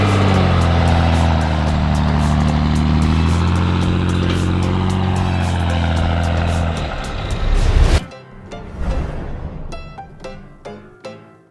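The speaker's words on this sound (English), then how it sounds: "And he does a burnout like that." A 1000HP Cummins-powered Ford Ranger truck doing a burnout, a loud sustained diesel engine roar held at high revs for about eight seconds, then cutting off into rattling, clattering tail-off sounds.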